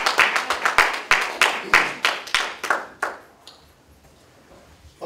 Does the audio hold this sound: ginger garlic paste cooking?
no